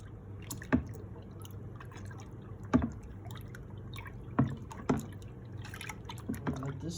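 Centennial hops are stirred into a home-brewed IPA in a fermenter, producing a few sparse wet clinks and sloshes spaced a second or two apart over a low steady background, with no voices.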